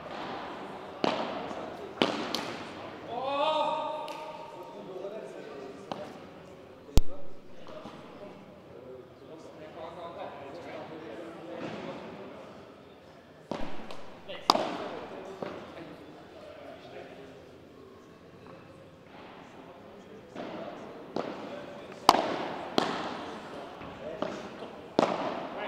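A padel match rally at a French tournament, with sharp ball strikes and volleys popping at irregular intervals over crowd ambience and commentary.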